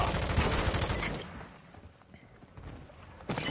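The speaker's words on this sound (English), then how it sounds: "Taking effective fire." Gunfire in Call of Duty MW2: a dense burst of automatic shots at the start fades into scattered pops, and a sharp blast lands near the end.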